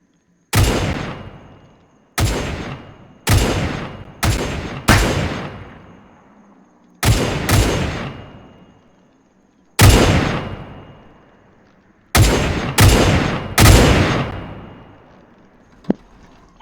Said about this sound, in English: Well, time for the cannons.